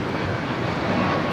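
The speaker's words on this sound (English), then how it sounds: "Air Premia 102 taking off to Seoul on the 787-9 Dreamliner." Air Premia Boeing 787-9 Dreamliner on its takeoff run at Los Angeles, a steady dense engine rumble, loud and unbroken over a brief moment.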